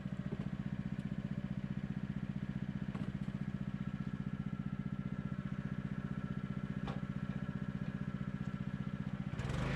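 A Northstar 30 ton wood log splitter runs behind a tractor, its engine holding a steady, loud, close drone with a few faint clanks and a knock near the end, and no voices.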